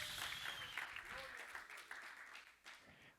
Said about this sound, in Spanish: dale palmas con ganas